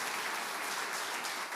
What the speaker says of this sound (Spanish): Y se le va a dar ese aplauso al Señor.